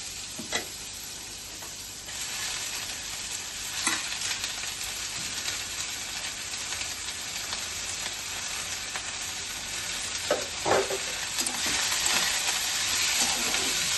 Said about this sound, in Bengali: আমি এবার পালং শাকটা দিয়ে দেবো।